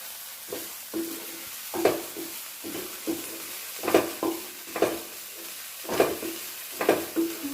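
Dried prawns and dried red chilies fry in a pan with a steady, moderately loud sizzle, broken by regular stirring scrapes and small clatters about once a second, with no talking.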